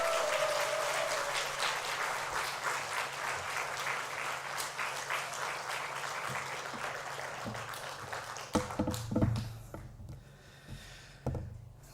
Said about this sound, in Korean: 오늘 말씀 증할 목사님 김신영 목사님 박수로 환영합니다.